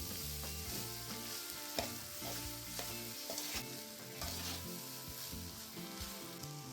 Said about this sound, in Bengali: এবার ভাতটাকে আমি সব সবজির সাথে ভালো করে মিশিয়ে নিচ্ছি